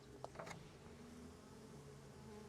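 Continuous buzzing of bees at a beehive hums throughout, with a few brief higher clicks near the start; steady and fairly close.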